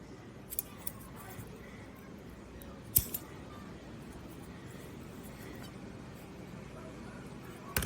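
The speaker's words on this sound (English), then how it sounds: "take some scissors and just lightly trim that so it's not rough" A few soft snipping clicks of scissors trimming the edge of material for a model horse dressage saddle, mostly quiet with light background noise and one sharper snip partway through.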